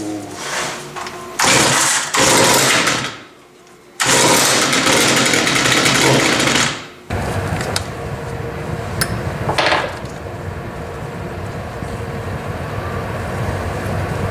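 Stihl FS55 string trimmer being brought back to life: repeated pull-start attempts in loud bursts with pauses, then the small two-stroke engine catches and keeps running steadily up close.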